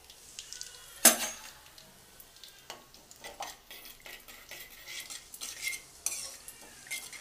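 Cumin seeds sizzling in hot oil in a pan, stirred with a utensil that clinks and scrapes against the metal, producing a sharp clatter at first and then a soft crackle.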